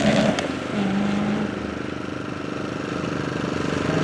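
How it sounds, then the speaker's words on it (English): A Honda S2000 runs on a wet autocross course in the rain, giving a steady mid-pitched engine drone heard from a distance, with a brief whine near the start. "We're back on course with an S2000, also red one."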